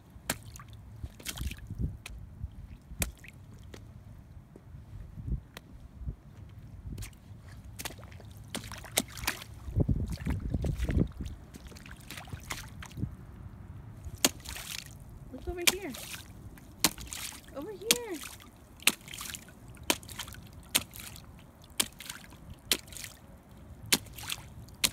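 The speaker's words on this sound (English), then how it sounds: "Did you splash me? Are you stomping?" A child splashing and stomping in a big puddle, irregular wet slaps and squishy footfalls with a heavier sloshing burst midway, fairly quiet and close, with voices talking in between.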